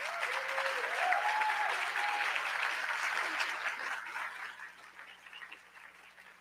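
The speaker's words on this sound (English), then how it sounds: "can we please take a moment with a round of applause to celebrate every business that was nominated this evening" A ceremony crowd applauds business award nominees at an evening national business awards gala, a sustained round of clapping that fills the room and gradually thins out toward the end.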